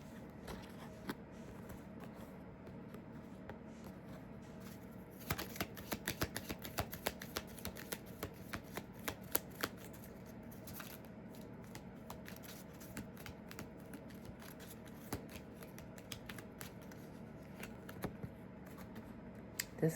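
Tarot or oracle cards are shuffled for a long stretch, giving quiet, dense riffling and flicking with irregular clicky bursts, close and faint.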